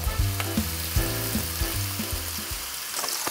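Hen of the woods mushrooms fry in olive oil, a close, busy sizzle with crackles and light stirring knocks repeating every half second or so.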